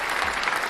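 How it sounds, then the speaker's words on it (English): A short burst of applause from a small group, dense clapping that sounds close. "I owe you a round of applause"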